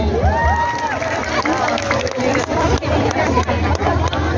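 Crowd at the closing night of the Danau Tempe festival in Wajo, South Sulawesi, applauding and cheering loudly, with chatter, a sung or spoken voice and a low musical hum mixed through the dense noise.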